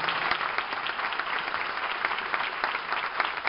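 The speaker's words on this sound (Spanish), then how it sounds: "Un aplauso para ellos" An audience at an end-of-year school concert applauds municipal staff, giving steady, dense clapping from many hands that holds at an even level throughout, with no speech over it.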